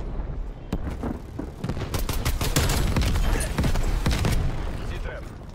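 Rapid gunfire in Call of Duty, a dense fusillade of sharp shots and bursts building in intensity over several seconds, with players talking over it.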